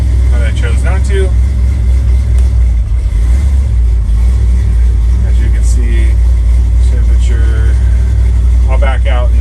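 A 1971 Ford F250 crew cab engine runs steadily after a start without choke, a loud continuous low rumble throughout with some faint background talk.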